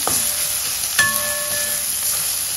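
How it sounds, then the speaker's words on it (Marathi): Food sautéing in a pan until soft while making sambar, a steady close hiss of frying with a single louder knock or stir about a second in. "मऊ पडेपर्यंत आपल्याला तो छान परतून घ्यायचा आहे."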